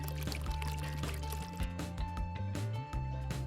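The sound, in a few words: pouring orange juice over espresso with ice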